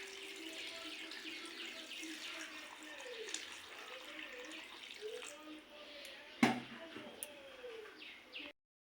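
Water splashes and gurgles as it is poured into a pan of fried spice paste while cooking a prawn curry, a soft continuous pour with a sharp clatter near the end, under a voice and faint birdsong.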